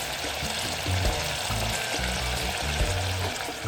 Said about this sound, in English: never see oil boil